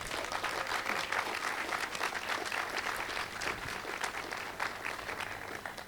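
Sustained applause from an audience at a school welcome back ceremony, steady dense clapping throughout without pause.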